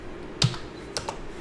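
A few sharp keystrokes on a computer keyboard, one crisp tap followed by a couple of lighter clicks about half a second later, close and isolated, with no talking.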